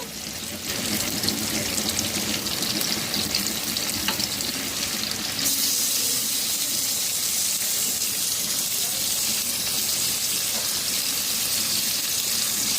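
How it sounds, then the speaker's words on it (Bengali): Chicken pieces with skin go into a pan of tomatoes cooked down over a high flame, giving a steady wet sizzle and frying hiss that carries on without a break, loud and close, with no talking. "টমেটো গলে গেছে হাই ফ্লেমে পাঁচ মিনিট নাড়াচাড়া করে নিয়েছি চিকেন দিয়ে দেব"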